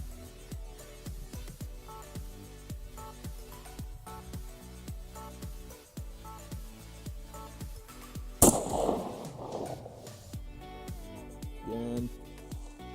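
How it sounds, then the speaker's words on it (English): A factory AR-15 rifle with a 16-inch barrel, 1-in-7 twist, firing 70-grain bullets; a single sharp report cracks about two-thirds of the way in, loud and close, with a ringing tail, after a stretch of rhythmic clicks and ambient noise. "So we're shooting a 16-inch barrel."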